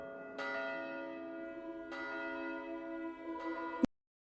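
Church bell in an anime tolling the seventh bell, three deep resonant strikes about 1.5 seconds apart, each ringing on with a long shimmering decay and no talking, before cutting off abruptly.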